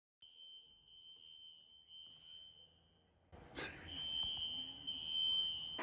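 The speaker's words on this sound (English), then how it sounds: "of course now the fire alarm is going off" A smoke alarm in a small apartment kitchen after cooking dinner: a shrill, continuous electronic tone sounds, briefly breaks off, then returns louder amid clatter and room noise.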